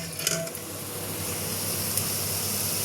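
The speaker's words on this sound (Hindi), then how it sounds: "बस मैं जल्दी जल्दी तड़का लगा लेती हूँ" Steady frying sizzle from an onion tadka for mixed dal rises in a pan at home, with a few faint utensil clinks early on and no voices.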